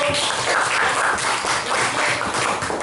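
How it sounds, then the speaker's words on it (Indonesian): Students clap together in a classroom during a teaching practice lesson, a steady, dense patter of hands lasting a few seconds with no voices over it. "tepuk tangan dulu"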